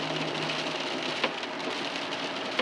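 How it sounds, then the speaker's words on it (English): Heavy rain drums steadily on a car during a drive home from Stanton to Northfield, Minnesota, in the first major rain of the year, a dense continuous hiss with a few sharper drops and no talking. "It's been raining since then, and it keep on raining since then."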